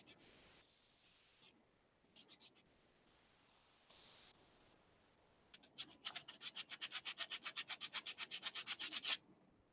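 Sandpaper held between the fingers rubs over a small handmade pendant, first in a few soft, scattered scrapes, then in a fast, steady run of about twenty close, rhythmic strokes that grow louder before stopping.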